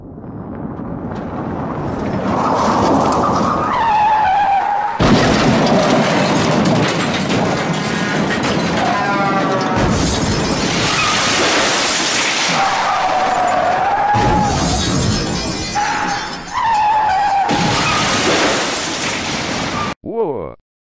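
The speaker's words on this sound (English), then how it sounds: "Whoa! That was a big splash!" A car skids off a washed-out bridge and plunges into water, with loud, broadband bursts of rushing, crashing and splashing noise separated by brief drops, ending abruptly.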